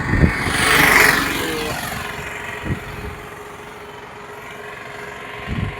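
Cars creeping slowly along a road in thick morning fog, a low steady engine rumble with a louder vehicle passing near the start and faint bumps later, no talking.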